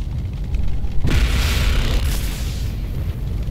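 A UV turret fires on Kryll in Gears of War Ultimate, producing a heavy, continuous booming roar that swells and holds loudly for several seconds with no pause.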